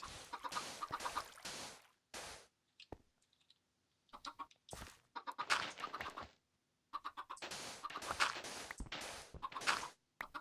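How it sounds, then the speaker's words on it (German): Chickens at a chicken farm in Minecraft cluck in repeated short, close bursts, interrupted by quiet gaps and soft clicking steps. "da unten ist schon die Hühnerfarm"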